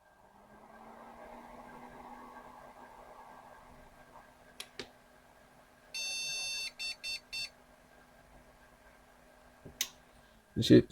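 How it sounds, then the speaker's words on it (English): Several short electronic beeps from an Asus P3B-F motherboard under repair, a sustained tone then a quick series of bursts, over a steady hum and faint fan noise, with clicks near the end. "we hopefully hear beeps now."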